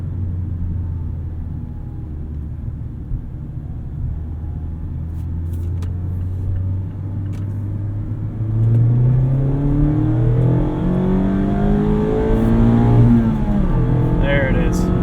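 A 2019 Mazda MX-5 Miata RF Grand Touring accelerates hard from inside the cabin, its engine note climbing through the gears as a steady low drone swells louder. A voice talks briefly over the engine.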